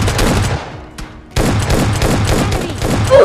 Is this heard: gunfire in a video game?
yes